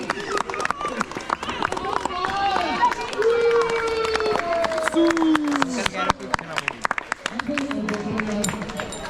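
Audience clapping at a Diwali party in ParamHans Park, scattered sharp claps under loud chatter and someone talking, with tonal voices and party noise throughout.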